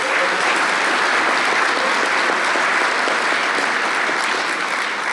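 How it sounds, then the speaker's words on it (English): Audience applause at a state bar association annual convention during a presidential installation speech. Dense, loud, sustained clapping from a large crowd fills the clip evenly from start to finish. "Give a round of applause to Jessica"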